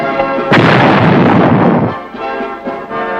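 A 105mm howitzer fires from a platform emplacement in a flooded rice field: one loud, close booming blast that rolls on for over a second, then fades into rumbling echoes.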